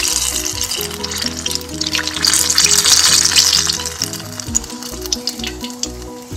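Banana fritters (pazham pori) deep frying in hot oil, a steady loud sizzle and bubbling that swells in the middle and runs continuously throughout, with a low background tone underneath.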